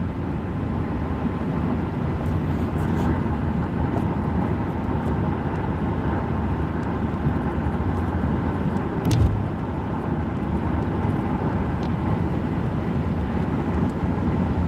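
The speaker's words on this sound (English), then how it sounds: "Just driving through Arizona." Steady in-cabin road noise from a car driving through Arizona on the way to a shop, a continuous low rumble of engine and tires with one brief louder bump partway through.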